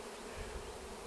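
Honeybees buzz close by during a hive installation at a ranch, a continuous droning hum heard alone.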